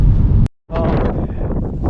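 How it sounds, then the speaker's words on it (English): Heavy wind in Iceland buffets the microphone with a loud low rumble, cut off by a brief silence before the gusting roar returns. "Very windy, smells bad."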